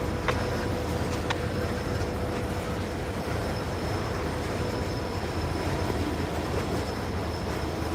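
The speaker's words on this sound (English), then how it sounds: "We're not going to turn and follow the locomotives because we don't want to miss our CSX." CSX train rolling past below a high cliff, a steady continuous rumble of wheels and railcars heard from above, with a faint wheel squeal and a few clicks near the start.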